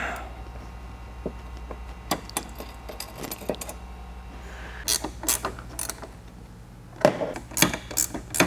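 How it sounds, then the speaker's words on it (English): A wrench works a bolt that fastens a ladder's bottom to the lower bracket on a Toyota 4Runner, producing scattered close metallic clicks, ratcheting and clinks in irregular bursts with no talking. "now we can go ahead and bolt the bottom of the ladder to the lower bracket"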